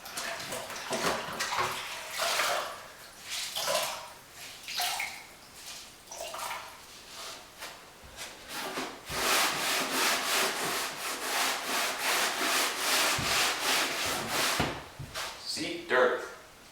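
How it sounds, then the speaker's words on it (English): A slightly damp rag scrubbing a plywood subfloor, rhythmic close rubbing strokes that swell into a steady continuous wiping stretch, with a person speaking at times. "I'm going to use a slightly damp rag and wash the floor."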